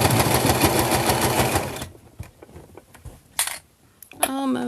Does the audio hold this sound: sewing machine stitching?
yes